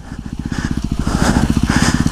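Dirt bike engine in the woods of a public park, a steady rapid putter with rhythmic throttle pulses, loud and close while riding, no voices.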